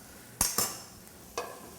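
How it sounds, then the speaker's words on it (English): Pancetta starting to sizzle in a pan, heard as a few sharp scraping clatters of the pan or utensil over a faint frying hiss, close and with no voices. "We have our pancetta here starting to sizzle"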